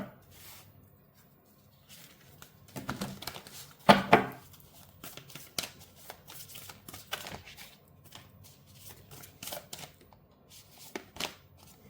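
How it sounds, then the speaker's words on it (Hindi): Tarot cards being shuffled and drawn from a deck, with quiet scattered riffles and slides, one sharper flurry of shuffling, and intermittent soft card taps. "मुझे कुछ कार्ड्स और निकाल लेने दीजिए प्लीज।"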